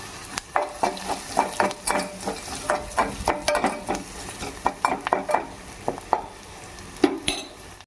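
Curry leaves are added to a pan of cooking onion chutney with turmeric while a utensil stirs, giving a rhythmic series of close scraping and clinking strokes over a faint frying sizzle, with no talking.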